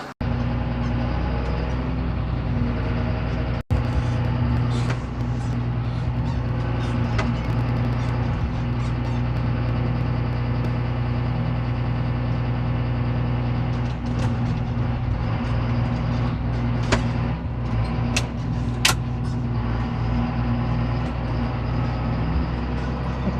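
A large tractor fitted with a huge front bucket runs continuously on a farm, giving a steady, loud, close engine drone with low humming tones. Occasional faint clicks and knocks sound over it, and no one speaks.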